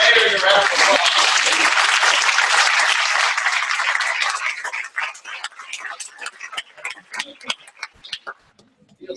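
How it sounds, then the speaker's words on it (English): An audience applauding after a debate session, loud dense clapping that thins after a few seconds into scattered individual claps and fades out. "Gerhard, maybe a round of applause."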